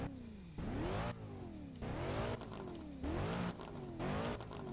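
A car engine in the Roblox game Driving Empire revs repeatedly, rising and falling in pitch several times in a steady rhythm, loud and close with no voices.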